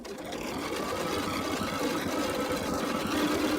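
Steady, continuous whir of a sewing machine stitching at a fast, even pace, close by and fairly loud, with no pauses throughout.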